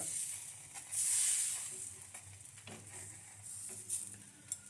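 Thin patishapta pitha batter frying in a pan, a soft sizzle and hiss with brief louder bursts and light scraping, fairly close, with no voices.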